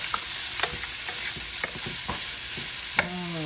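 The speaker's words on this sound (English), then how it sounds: "And now she's adding the onions that we chopped." Chopped onions hitting hot oil in a pan for rava upma with curry leaves, a soft continuous sizzle punctuated by several sharp spoon clinks and scrapes as they are stirred, fairly quiet and close.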